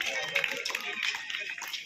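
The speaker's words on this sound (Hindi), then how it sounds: "जोरदार ताली।" Audience at a school Basant Panchami event clapping, a dense patter of many hands mixed with voices, steady and fairly close.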